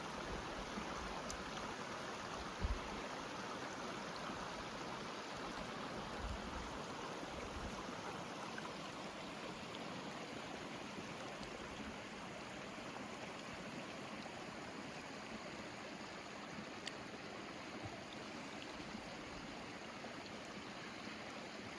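A creek beside the Sarah Cascade Trail flowing downhill past red alder, a steady, even rushing and trickling of water close by, continuous with no voices.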